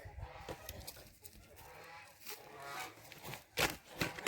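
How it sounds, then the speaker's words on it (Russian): Geese honk playfully in a front garden where tulips are being planted, with several short, fairly close calls scattered irregularly, the loudest burst near the end. "Наши гуси разыгрались."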